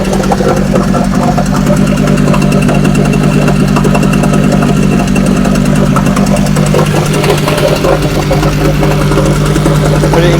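A Selva 130 6hp outboard motor runs steadily after a pull start, a loud, continuous mid-pitched engine drone with a constant idle throb throughout, close to the microphone and with no voices.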